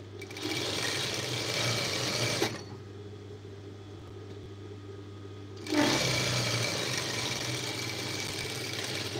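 A sewing machine joining skirt panels hums continuously up close, stops for about three seconds of near silence, then starts running again at the same steady pace.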